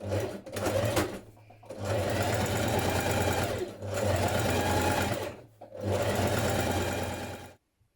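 A sewing machine understitches the front pockets of a coat in three long, steady runs, separated by short pauses, close and loud, with no talking.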